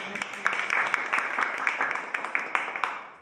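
Steady applause from teachers at an orientation event in a lecture hall, many hands clapping densely at moderate distance, with a voice faintly heard beneath it.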